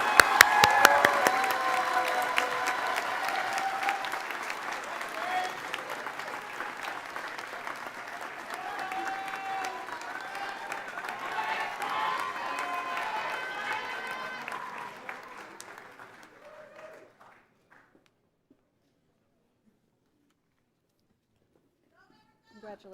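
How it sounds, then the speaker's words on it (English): Commencement audience at Five Towns College's 50th graduation applauding graduating students, a broad sustained wash of clapping with whoops and voices mixed in, fading out after about sixteen seconds into near silence. "please join me in a round of applause for these extraordinary students"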